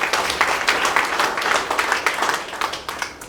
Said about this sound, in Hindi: सर के लिए एक बार जोरदार ताली बजा दीजिएगा सर